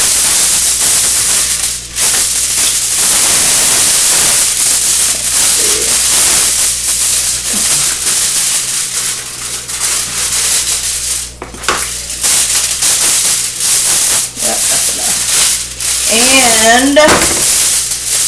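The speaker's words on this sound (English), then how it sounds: "You just want to spray your aluminum foil like that, just a little bit on there" Cooking spray hisses in bursts onto aluminum foil, a close, steady spray texture broken by short pauses, with a brief spoken word and some clinks mixed in.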